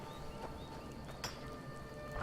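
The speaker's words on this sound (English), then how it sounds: "it appears that Horse walked home" Soft video-game horse hoof clip-clops in Skyrim sound against a constant low ambient hum, with a sharper knock near the middle and no talking.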